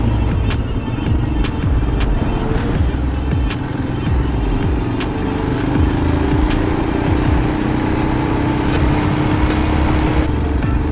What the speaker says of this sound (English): Stuck behind the tractor.